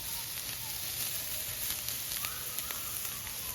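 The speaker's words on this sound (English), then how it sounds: "We wanna cook these as slow as the Blackstone allows us to cook them." Burger patties cooking slowly on a Blackstone griddle give a soft, even sizzle with faint crackle, steady and fairly quiet throughout.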